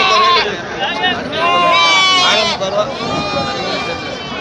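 Goats bleating at the Samayapuram goat market in Tamil Nadu, several loud wavering calls overlapping close by, with crowd chatter underneath.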